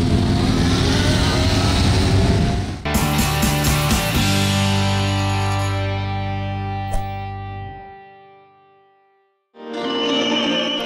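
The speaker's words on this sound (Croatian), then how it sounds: "ako vas iznenadi glasni zvuk brujanja motora, znajte da se radi o tradicionalnoj bistranskoj motorijadi i njihovom defileu motora" A motorcycle parade at a traditional Bistra motorcycle rally fills the air with loud, close engine revving that drops to a long, fading drone, then a fresh roar rises again.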